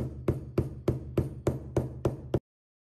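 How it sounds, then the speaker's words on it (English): Eight evenly spaced hammer blows flatten saddle stitches on a Himalayan crocodile leather card holder, each a sharp, close knock about a third of a second apart before a sudden stop. "Hammer down to flatten the stitches."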